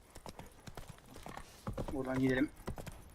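Horse hooves gallop in The Witcher 3, a rapid clip-clop rhythm under someone talking, with a short whinny-like sound near the end.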